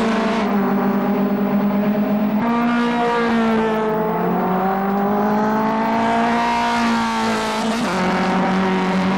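Some 25 Monoposto single-seater race cars head out for a practice session on a cloudy, dry circuit in the 2002 championship. Loud, continuous engine drone with harmonic tones that rise and fall as cars pass, with no break throughout.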